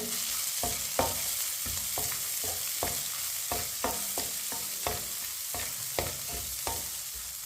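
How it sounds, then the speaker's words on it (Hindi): Semolina halwa with chopped almonds, coconut and other dry fruits is stirred in a pan over low heat, giving regular scraping strokes over a continuous faint sizzle, close and quiet, with no one talking. "इसे मिक्स करके हल्की सी आंच पर 1 मिनट के लिए भून लेंगे"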